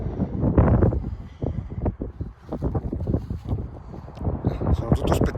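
Strong, gusty wind buffets the microphone at the Valsusa mountain airfield in Vaie in March, a loud, continuous rushing roar with uneven surges throughout.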